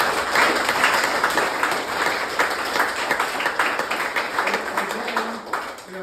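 Applause from a campaign-speech audience in Iowa, a dense, steady clatter of many hands that holds for about six seconds before thinning slightly at the end.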